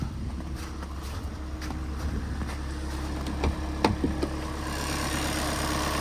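A 2019 Skoda Octavia with a 1.6 diesel engine and automatic gearbox idles steadily after standing nearly four weeks, a continuous low hum heard close up with light wind noise and a few faint clicks, no talking.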